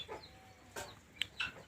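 Chickens on a small farm giving a few soft, scattered clucks and short calls, faint and intermittent against quiet background.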